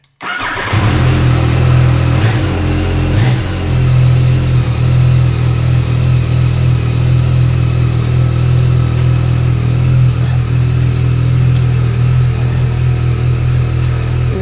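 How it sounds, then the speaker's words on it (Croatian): A car engine cranks and catches almost at once, then settles into a loud, steady idle with a deep rumble that holds for the rest of the time. "Ajde palimo motor pa ćemo vidjeti kad stignemo."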